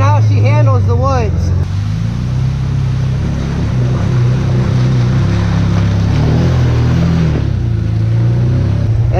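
A Can-Am off-road vehicle in eco mode rumbles through the woods, its low engine drone steady and close, with crunching terrain noise and brief whirring bursts; no one talks.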